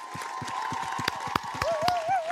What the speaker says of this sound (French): Nous allons vous applaudir